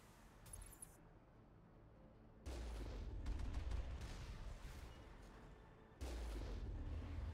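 Tank cannon fire in Mass Effect on Noveria: two heavy, booming blasts a few seconds apart, each with a deep rumbling tail, loud and close after a quieter stretch of ambience.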